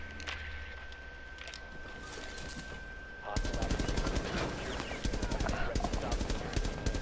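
Gunfire in the Rainbow Six Siege video game: rapid automatic bursts crackle in fast rhythmic volleys, quieter at first and then loud and dense after a few seconds, with game ambience under them.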